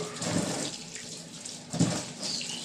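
Tap water runs steadily over peeled, cut vegetables being washed in a kitchen sink, with a couple of brief louder splashes as the pieces are handled; no talking.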